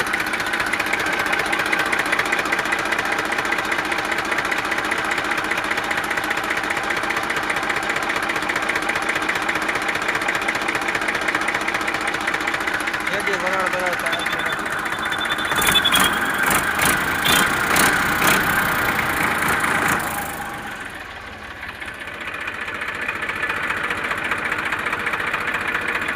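A tractor engine, one of a New Holland 3230, Swaraj 735 FE or Massey 1035, idles steadily at close range with a continuous low rumble. Brief sharp rattles break in near the end before the engine note dips and then settles back.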